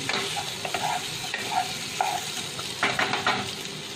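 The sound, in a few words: mixing boiled potato in pan for achari aloo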